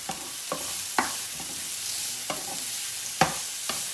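Vegetables with a tablespoon of minced garlic cook in a pan for Asian chicken rice bowls, a soft sizzle broken by a handful of sharp scraping stirs, spaced about half a second to a second apart, with no talking.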